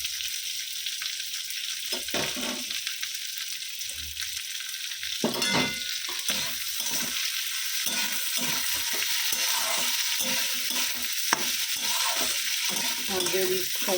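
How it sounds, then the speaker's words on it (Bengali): Dal fries in a pan with a steady hiss of oil while a spatula scrapes and knocks through it in irregular strokes, close and moderately loud, with no voices. "তো ডালটা ভাজা হয়ে গেছে, জল দিয়ে দিচ্ছি।"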